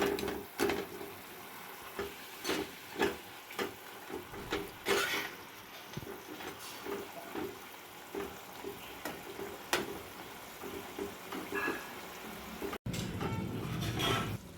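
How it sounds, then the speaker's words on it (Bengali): Fried paneer stirred through boiling chilli sauce in a pan, with a steady sizzle and rhythmic scraping strokes of the spatula, close and loud with no voices. "ফুটে উঠেছে, এবার ভেজে রাখা পনিরগুলো দিয়ে দেব।"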